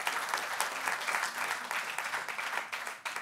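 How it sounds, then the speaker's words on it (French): Applause from an audience at a business leaders' colloquium in Avignon. It is a fairly soft but steady wash of many hands clapping, with small swells and dips. "On applaudit Verity, s'il vous plaît."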